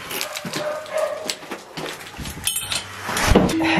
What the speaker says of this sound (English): these are my crazy dogs.